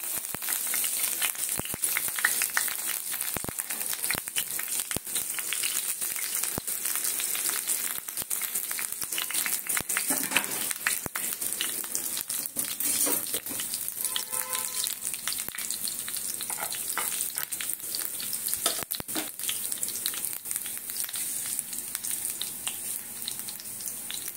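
Garlic frying in hot oil in a pan with soybean chunks for chili soybean, a continuous close crackling sizzle with occasional stirring scrapes throughout.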